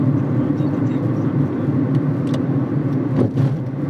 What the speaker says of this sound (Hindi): ये देखें कितनी ट्रैफिक है।